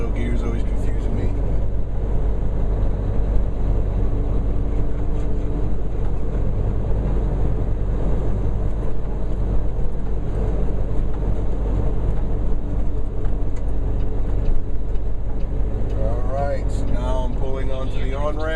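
A truck with a 13-speed transmission runs in low gear, its loud, steady engine drone and low rumble continuing throughout while someone talks over it.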